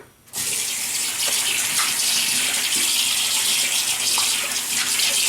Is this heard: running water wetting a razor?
yes